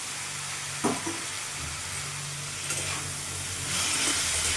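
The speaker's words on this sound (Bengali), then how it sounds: "এবার সেদ্ধ করে রাখা মোচাটা দিয়ে দেবো" Boiled banana blossom fries in a pan with a steady, close hiss and sizzle, punctuated by a couple of soft stirring knocks.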